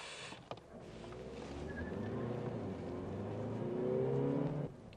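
Car in sport mode pulling away and accelerating, a steady engine drone rising in pitch and loudness over several seconds before cutting off abruptly near the end, with no talk over it.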